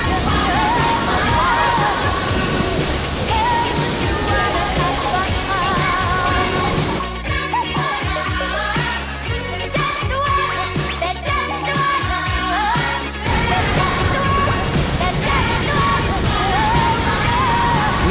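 Victoria Falls in Zambia roars at rainy-season flow as a loud, constant wall of rushing water that fills the whole clip, with voices faintly audible beneath it.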